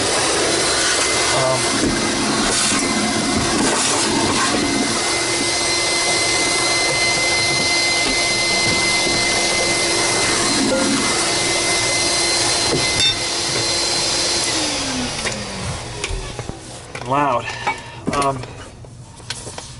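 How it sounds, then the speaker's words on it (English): Loud, steady whine and roaring suction of a vacuum cleaner running close by, cleaning out a dirty old Tristar compact vacuum, then winding down near the end with some clattering. "So we're going to actually vacuum it out first."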